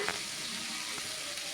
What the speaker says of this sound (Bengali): এই আলুগুলোকে এবার আমি ভেজে নেব।